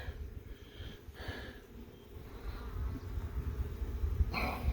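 Honey bees drone inside an opened beehive, a low continuous buzz close by with brief rustles and handling noises over it.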